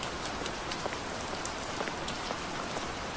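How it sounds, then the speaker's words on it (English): Loud, dense rain pours down in a video game, a steady hiss of drops with no voices over it. "Why is it raining blood? And why is the rain so loud?"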